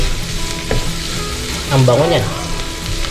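Onion, garlic and chili fry in a hot pan with a loud, close, steady sizzle that swells briefly as they are stirred, while a voice speaks a short phrase over it.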